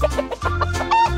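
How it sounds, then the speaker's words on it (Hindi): A hen clucks in a quick run of short, bright calls, close and clear with no talk over it. "मुर्गी।"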